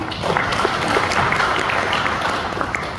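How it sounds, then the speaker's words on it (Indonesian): Audience applause at a Jakarta Utara municipal event on CSR support for waste management, given for an official named Pak Edi: a continuous, even roar of many hands clapping throughout. "Tepuk tangan dulu untuk Pak Edi."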